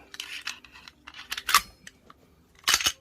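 A pistol slide part clicks back into place during firearm cleaning, a few sharp, close mechanical clicks and snaps scattered across a quiet background, the loudest bursts in the middle and at the end.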